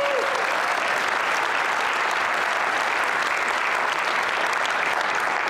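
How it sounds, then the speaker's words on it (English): A steady wash of audience applause fills a church hall at a political speaking event in Tulsa, Oklahoma, dense, sustained and even from start to finish. "Can we give them a round of applause, please?"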